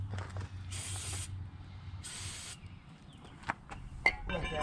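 Two long, bright hissing bursts from an aerosol spray can hit the rear brake parts of a Kia, with faint clanks and handling noises around them.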